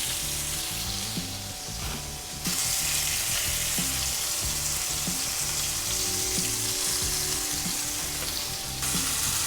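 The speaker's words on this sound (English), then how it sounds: "right now, I'm gonna cook the bottom side for about 2 minutes" Burger patties topped with cheddar cheese sizzle loudly and steadily in a pan, a dense hiss that swells after a couple of seconds, with a faint low rhythmic hum beneath and no talking.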